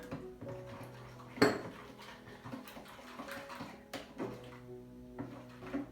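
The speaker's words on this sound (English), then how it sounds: "And just mixing that with the fork." Fork whisking chocolate cake batter with milk in a bowl, producing quiet, irregular clinks and scraping taps against the bowl, one sharper knock early on, with soft kitchen ambience.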